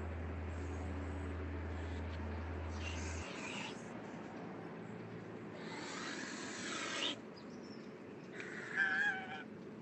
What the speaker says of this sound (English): So it has that honking sound, which is different than the Canada geese.